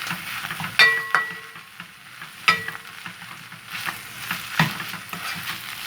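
Cut miyeok seaweed stir-fried in a pot for potato seaweed soup, a busy sizzle with sharp clinks and scrapes of a utensil against the pot at irregular intervals, close up, no talking.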